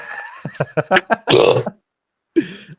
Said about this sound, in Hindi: अरे भाई ये गंदी गंदी डकारे मत लो यार